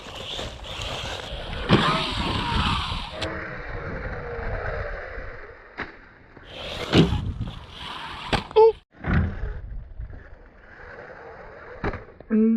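An HBX 2105A brushless 1/14-scale RC car drives, its motor whining in bursts that rise and fall as it accelerates and slides, with sharp knocks and scrapes from close by and someone talking in between.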